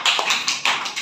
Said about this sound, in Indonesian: kasih tepuk tangan dulu buat teman-teman